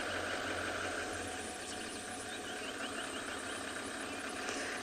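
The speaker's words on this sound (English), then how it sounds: "You probably can hear their vehicles in the background." Safari vehicles idle at a distance in the South African bush at sunset, a low steady engine rumble under broadband outdoor noise, with faint birds, heard without any talk.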